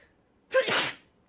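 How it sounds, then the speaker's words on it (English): A single sharp sneeze from a person, sudden and close, with a quick inhaled onset and a burst of breathy noise lasting about half a second before fading to quiet. "Trying not to sneeze till I'm done with this video."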